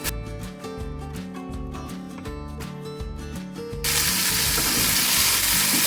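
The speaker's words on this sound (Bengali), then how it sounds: "এবার এটাকে ভালো করে ভাজতে হবে" Boiled jackfruit fries in a pan. Soft music plays at first, then a loud, dense sizzle takes over and continues steadily.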